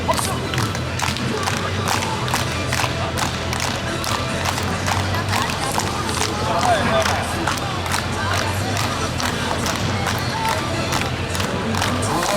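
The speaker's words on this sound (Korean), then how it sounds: "박수 한번 주시겠습니다." A crowd at a Korean cheerleading event in a sports venue claps and cheers continuously, with dense rapid applause and some voices mixed into the steady roar.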